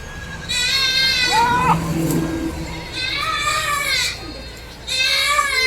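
A crossbred mother goat and her two kids bleat in several wavering cries, one after another with short pauses, close by and fairly loud, with a brief voice in between.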